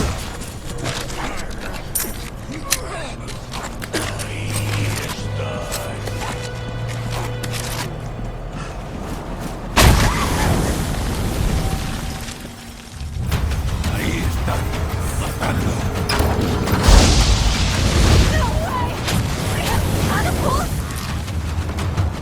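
Heavy boulder impacts from catapults in the Resident Evil 4 remake, booming crashes and rumbling debris amid a busy combat mix, with someone talking over much of it.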